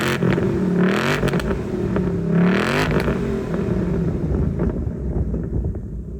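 A 2025 Ford Mustang GT Performance Pack exhaust, recorded up close, surges through two loud revs before settling back toward a lower rumble, with wind buffeting the microphone.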